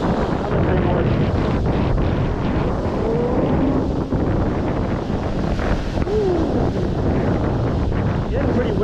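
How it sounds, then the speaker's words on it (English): Strong wind roaring and buffeting the microphone by big waves, a dense continuous rush at high level with surf and water noise underneath and a voice speaking faintly through it. "This is a pretty big wave. Big one. Another big one."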